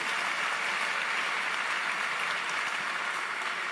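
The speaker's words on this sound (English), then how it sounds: "if you want to clap, do it well." Church congregation at a burial service clapping steadily, a dense, even wash of many hands held at constant moderate level throughout, with no speech over it.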